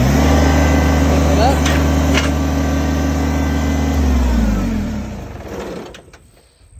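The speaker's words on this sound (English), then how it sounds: "Turn on the tractor." A tractor engine runs with a steady low rumble, loud and close, then winds down and fades out after about four seconds, with a brief spoken phrase over it.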